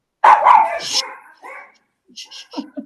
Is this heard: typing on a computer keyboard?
no